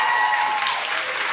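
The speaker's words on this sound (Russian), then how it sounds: "Сделайте всем улыбочку так, чтобы зал вас поддержал аплодисментами." An audience in a hall applauds children on stage at a junior Mister and Miss pageant, a brief, even wash of steady clapping without talk.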